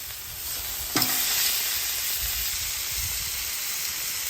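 Pork chops on a Blackstone griddle give a steady, moderate sizzle and hiss throughout, with a brief scrape or clink of a tool near the start and no talking.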